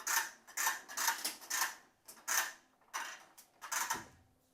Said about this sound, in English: We have the Flexzilla 50-foot hose reel, 3/8 airline. Pull out all we need.